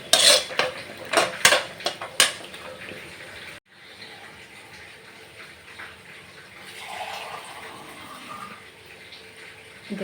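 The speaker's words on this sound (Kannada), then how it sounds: "ಇದಕ್ಕೀಗ ಸ್ವಲ್ಪ ನೀರು ಹಾಕಿ" Water poured into vegetables cooking in a pot for soya pulao, a few sharp metal clanks of utensils first, then a softer, longer watery pour.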